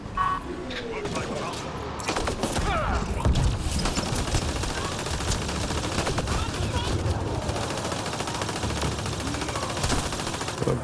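Sustained automatic gunfire in Mass Effect: Andromeda, a dense, continuous rattle of rapid shots with occasional heavier impacts, mid-distance and unbroken, with a voice briefly speaking early on.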